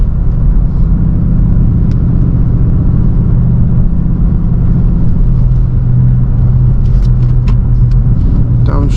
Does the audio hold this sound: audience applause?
no